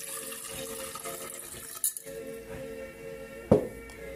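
Water is poured and mixed together from several sources in a quiet room, a soft trickling under a low hum, broken by two sharp clinks of glass or a vessel near the end.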